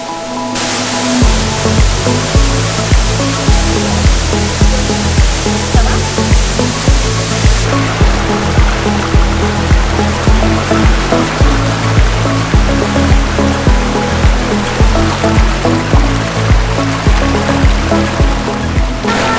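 A Martinique river runs through its rocky bed near waterfalls with a loud, continuous broadband rush. The water noise stays dense and unbroken, close up and alone.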